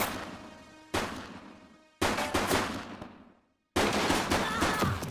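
Loud video game gunfire comes in three heavy bursts of rapid shots, each followed by a decaying echo and separated by short gaps.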